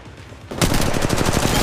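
Sudden loud automatic gunfire in Apex Legends Mobile erupts after a brief lull, a fast, tightly spaced stream of shots that continues to the end.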